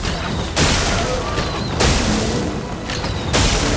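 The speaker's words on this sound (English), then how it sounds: "Zack attack explosion." An attack explosion in Clair Obscur: Expedition 33 lands as a series of loud, broad booming bursts, three or four heavy crashing hits in quick succession with no talking.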